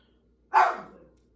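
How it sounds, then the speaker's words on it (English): A neighbours' dog gives a single sharp bark, loud and fairly close, fading quickly into quiet surroundings. "Neighbors' dogs."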